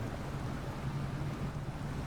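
A Mercedes-Benz Zetros 6x6 truck in SnowRunner plows into deep water, giving a steady low engine drone under a continuous wash of splashing and churning water, even and unbroken throughout.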